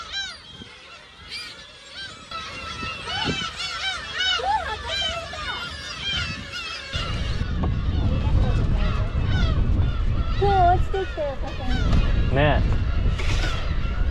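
A large flock of geese honks in Aomori Prefecture, Japan, with many overlapping calls. A heavy rushing, rumbling noise joins midway and lasts to the end.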